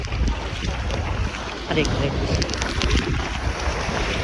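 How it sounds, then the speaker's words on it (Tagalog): Strong ocean waves surge at an island beach, a loud, continuous rushing wash mixed with heavy wind buffeting the microphone, and a voice briefly calls out. "lakas ng alon guys"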